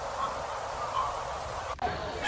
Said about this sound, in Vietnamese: Stork.